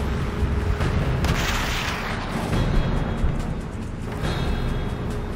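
Gunfire in the Call of Duty World at War sniper mission, with booming shots and rumbling explosive reports in a noisy wartime battle soundscape, several sharp loud impacts over continuous background rumble.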